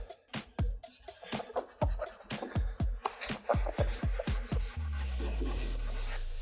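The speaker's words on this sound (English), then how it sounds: "take some rubbing alcohol on a clean microfiber towel, and we're just gonna wipe the area that we just scuffed" A clean microfiber towel dampened with rubbing alcohol wipes a scuffed spot on a 2015-2023 Ford Mustang's body panel near the quarter window, making about a dozen quick rhythmic rubbing strokes up close, then a smoother continuous rub at the end.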